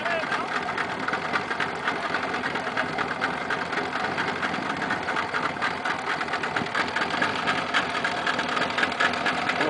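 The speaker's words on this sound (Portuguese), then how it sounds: "O motor é novinho pra caralho." A new Yamaha 90 hp outboard boat engine runs on a lagoon with a steady, loud, buzzing drone throughout, while voices talk and call out over it.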